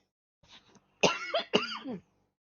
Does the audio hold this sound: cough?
yes